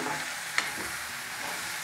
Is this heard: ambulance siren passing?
no